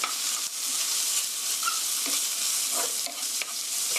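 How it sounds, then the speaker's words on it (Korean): Ground beef and onions sizzle in a hot pan while being stirred, a loud, close crackle with scraping strokes from the spatula and brief dips in the frying hiss, no voices present. "고루 볶아주시고요."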